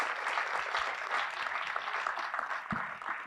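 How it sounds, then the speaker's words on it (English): Sustained applause from a full auditorium audience at a university quiz semi-final, dense and steady throughout without a break, loud and close. "So round of applause for all of you."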